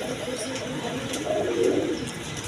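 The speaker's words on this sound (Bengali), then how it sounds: "এখানে আরেক পেয়ার কবুতর আছে" Pigeons kept as a pair for sale at a market coo softly close by, with a low warbling call rising over a busy background murmur.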